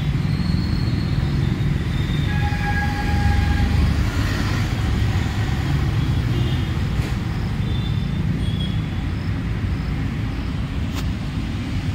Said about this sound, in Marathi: मेट्रो रेल्वे जात आहे बघा,